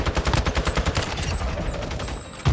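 Shotgun blasts in the mobile shooter game Warzone Mobile come as a rapid string of loud, punchy reports in steady rhythm, close and dense, ending in a heavier final boom.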